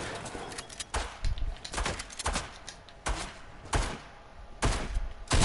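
Several sharp gunshot bursts ring out in a video game, spaced irregularly across a few seconds, fairly loud against a steady background of game ambience.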